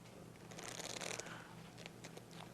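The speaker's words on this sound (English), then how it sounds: "we give him a shuffle" A deck of playing cards is shuffled by a bar magician during a close-up trick, giving a brief burst of riffling flutter followed by lighter, softer card clicks against a low background hum.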